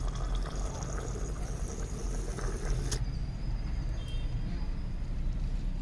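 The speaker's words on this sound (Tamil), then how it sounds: "ஃபஸ்ட்டு நம்ம இதில் 50 ML வாட்டர் வந்து போர் பண்ணலாம்." Water is poured onto a sanitary napkin, 50 ml in all, giving a steady, moderately loud pouring wash that runs through the whole stretch, with a brief sharp sound near the middle.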